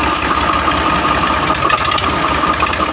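A Swaraj 735 tractor engine runs in second gear with a loud, close, steady diesel knocking chug that continues evenly throughout.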